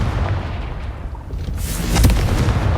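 Confringo blasting spell fired in Hogwarts Legacy, bursting in two booming explosive hits about half a second apart over a rumbling game backdrop, with no talk.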